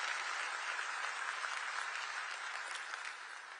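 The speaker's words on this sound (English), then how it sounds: "Can we clap hands for Maestro Bocelli once again?" A crowd applauds steadily for Andrea Bocelli at the FIFA World Cup draw in Washington, a dense wash of clapping that holds at an even level throughout.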